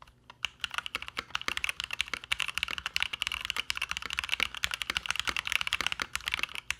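Typing on a tape-modded custom mechanical keyboard, a fast run of close, crisp keystrokes clattering steadily on their own for several seconds.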